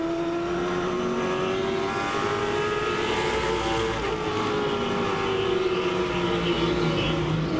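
Late model stock cars race at Langley Speedway, a loud continuous engine roar with a rising and falling pitch as the pack passes, steady and dense throughout with no pauses.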